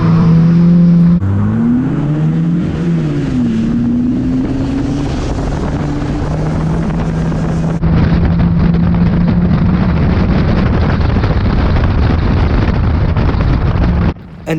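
Stock cars racing in a heat, several engines roaring loud and close throughout with pitch sweeps as cars rev and pass, rough continuous racing noise with wind buffeting, cutting out abruptly at the end.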